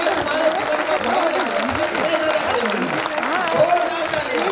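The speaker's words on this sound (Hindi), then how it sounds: "जोरदार तालियां।" An audience at a Hindi kavi sammelan poetry gathering applauds, with dense, sustained clapping filling the room at a steady loud level and voices faintly mixed in beneath it.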